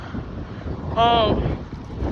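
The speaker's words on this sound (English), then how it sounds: "It's windy, it's a little chilly out here" Wind rumbles against the microphone throughout, with a short high tonal sound in the middle.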